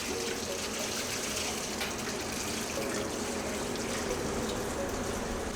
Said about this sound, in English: Now we're just going to drain our sweet potatoes out.